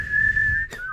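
A person whistles one steady, sustained note that breaks off briefly and then resumes slightly lower, close and fairly loud over a low background rumble.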